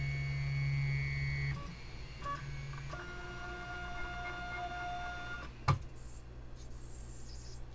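A Trinus 3D printer with an unexplained fault gives off steady mechanical whirring with shifting tones, stepping pitch a few times. A sharp knock lands near the end, then a fainter, scratchier hum.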